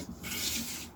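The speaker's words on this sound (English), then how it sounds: "just hear how nicely that's planing" Hand plane taking a very light shaving cut along the wood of a 1959 Les Paul Special guitar, one smooth close rasping stroke lasting about a second, heard on its own.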